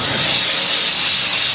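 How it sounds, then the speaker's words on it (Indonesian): A Scarpavor steam machine cleans a shoe insole with a loud, steady hiss of steam that fills the whole moment, with no talking. "Oh jadi itu uap Pak ya?"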